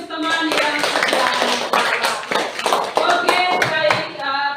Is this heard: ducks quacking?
no